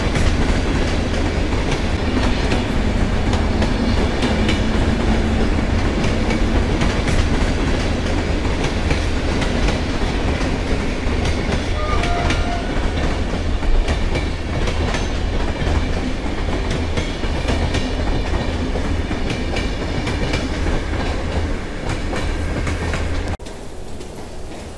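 A Lubuszanin passenger train rolls into Warszawa Wschodnia station with a loud, continuous rumble of wheels and carriages and faint rhythmic clatter over rail joints, close by throughout, with no talk.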